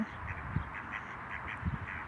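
Domestic ducks quack in short nasal bursts, several calls spread across the moment at moderate distance, with a couple of louder, closer quacks standing out over a steady background hum.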